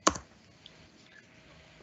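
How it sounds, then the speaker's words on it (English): A quick burst of keystrokes on a computer keyboard opens, followed by a faint isolated tap and quiet room tone, close and soft. "I'm just typing that up here."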